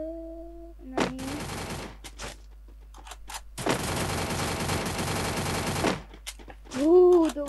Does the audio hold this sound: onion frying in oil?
no